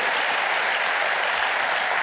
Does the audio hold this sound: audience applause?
yes